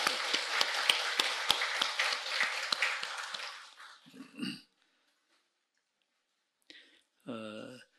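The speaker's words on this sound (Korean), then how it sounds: "박수 한번 해주십시오." A church congregation applauds during a worship service, a dense burst of clapping for roughly four seconds that fades out, followed by silence and a few short spoken words.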